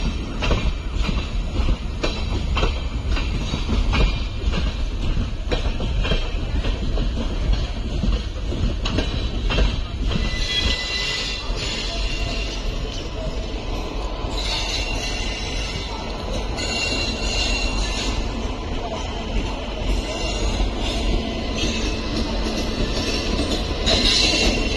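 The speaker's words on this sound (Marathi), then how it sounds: "बघ बघ जा ट्रेन बघ जा." The Kochuveli–Porbandar Superfast Express passenger train passes close by with a loud, steady rumble and rattle of coaches and wheels throughout, with no talk over it.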